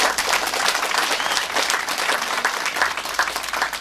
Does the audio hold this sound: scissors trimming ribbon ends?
no